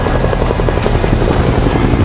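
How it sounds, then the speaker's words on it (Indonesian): A CIA helicopter in flight during a film scene, its rotor chop loud and steady with rhythmic blade pulses over a constant engine roar throughout. "mereka lolos dengan membawa Lee menggunakan helikopter milik CIA itu"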